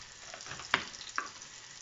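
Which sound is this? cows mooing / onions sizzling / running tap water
onions sizzling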